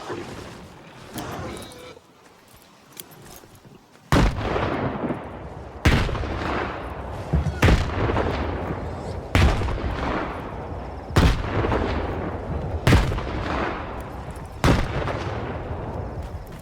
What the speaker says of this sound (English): Alright, I'll throw some grenades.